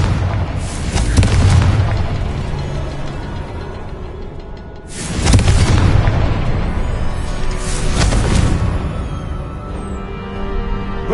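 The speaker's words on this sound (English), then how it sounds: "Confringo." Blasts from the Confringo explosive spell in the video game Hogwarts Legacy, three heavy booming bursts spaced across the stretch, each with a rumbling tail, over continuous in-game ambience.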